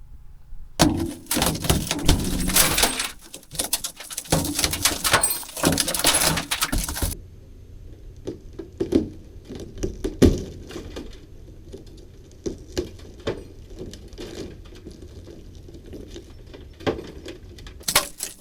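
Window glass is broken out of a Datsun 620 pickup truck door, a dense stretch of crunching, crackling and tinkling shards followed by scattered clinks and small pieces falling, close and loud.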